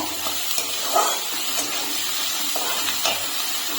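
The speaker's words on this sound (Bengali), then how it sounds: "এখন আমি এর ভিতরে দিয়ে দিচ্ছি জল, উষ্ণ গরম জলটা হালকা গরম করে নেব।" Warm water pours steadily into a cooking pot of fried spice paste for a vegetarian stuffed papad curry. The rushing splash is close and continuous, with small gurgles and no talking.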